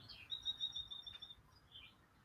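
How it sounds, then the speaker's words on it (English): A single painted bunting sings a thin, high whistled phrase, then a softer chirp, faint and distant against quiet background patter. "I can hear the birds singing outside"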